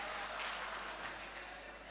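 Audience applause at an All India Mushaira poetry gathering on Walgaon Road, Amravati, a steady dense wash of clapping filling the whole moment without pause.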